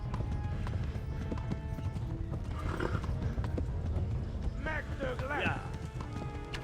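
A horse canters in the medieval video game Kingdom Come: Deliverance, with steady rhythmic hoofbeats and a couple of whinnies over continuous game noise, while a player talks.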